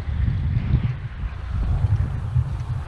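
Wind gusting and buffeting the microphone, a low rumbling roar that swells and dips in uneven waves.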